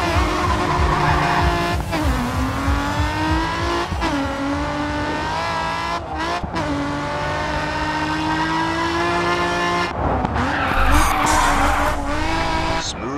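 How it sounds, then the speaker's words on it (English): Car tires squeal and skid continuously while drifting in the racing game Grid 2 on the Okutama drift course, mixed with a loud, steady engine roar that rises and dips with a few brief breaks. "Smooth drift."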